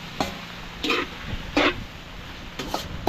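Ingredients for Bicol Express with bikuyo being sautéed in a pan, with a steady low sizzle broken by four or five short scraping stirs at irregular intervals, close up.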